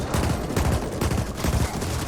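Rapid gunfire from a hostile turret in the sci-fi shooter The Ascent, a dense, steady stream of shots aimed at the player, loud and close with no talking.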